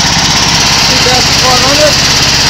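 A Fisher and Paykel Smart Drive motor spins up under test, giving a steady, close mechanical whir with faint whining tones that rise and climb in pitch partway through.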